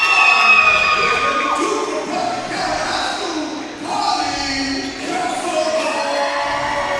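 A loud, echoing gym crowd cheers and shouts at a West Tennessee all-star high school basketball game, North versus South, with broadcast commentators talking over the roar and the crowd noise rising and falling in waves.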